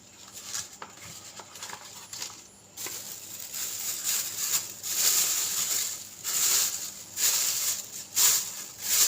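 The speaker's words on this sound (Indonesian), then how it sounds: "Kita masukkan ke dalam kantong plastik." Specimen paperwork forms are slid into a plastic bag, giving a run of close crinkling and rustling plastic, louder in bursts toward the end, with no talk.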